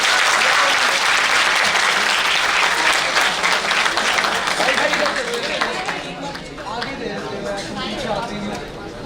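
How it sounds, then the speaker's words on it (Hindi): An audience applauds loudly at a faculty award ceremony, dense rapid clapping that fills the hall and then thins slightly toward the end, with a voice speaking over it. "तालियां जोरों से बजनी चाहिए."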